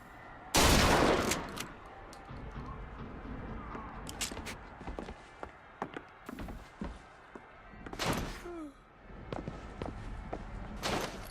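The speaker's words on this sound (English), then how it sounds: "It was just a gun battle" Gunfire during a gun battle in the video game Bioshock Infinite, a loud opening burst followed by scattered sharp shots and thuds over low background noise.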